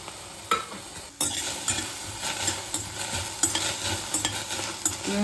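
Grated coconut, garlic and coriander dry-roasting without oil in a kadai, with steady scraping and stirring strokes over a soft continuous hiss, close and moderately loud, no voices.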